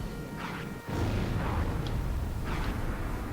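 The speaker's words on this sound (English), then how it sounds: "And there's the bridge. Blew up nicely." A bridge blown apart in Star Wars Republic Commando, a dull heavy blast near the one-second mark followed by rolling, rumbling low debris and a couple of softer bursts, moderately loud with no talk.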